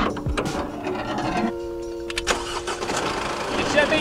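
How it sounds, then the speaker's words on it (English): An air compressor runs steadily while inflating van tires on a roadside in Mexico after a dirt road, giving a droning motor hum with a mid-clip shift in pitch, near and continuous, with some background voice-like activity. "I've got to air up the tires."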